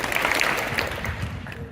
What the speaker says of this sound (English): 2 claps for your coaches